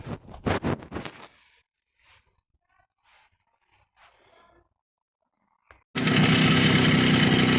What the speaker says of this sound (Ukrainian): завів цей мотоцикл, працює